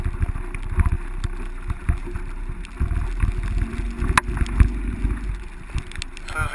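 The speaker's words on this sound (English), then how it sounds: "Row. Trying to get to this position together. Row. Continuous rowing here." A rowing crew pulls continuously during practice, giving rhythmic low splashes and thumps of oars and hull in wind and water noise, repeating every second or so at moderate loudness.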